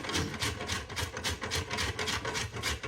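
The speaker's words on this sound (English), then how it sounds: "Just sit there and grate this butter into that flour." Frozen butter is grated on a box grater into flour in steady, rhythmic rasping strokes, loud and close, with about a dozen even back-and-forth scrapes.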